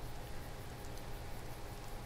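Steady rain falls in the video game Skyrim, a dense, even wash of droplet noise hissing on without pause or rhythm, soft and fairly distant, with no voices over it.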